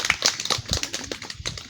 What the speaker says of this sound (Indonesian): Tepuk tangan buat SMK 1 Pekat.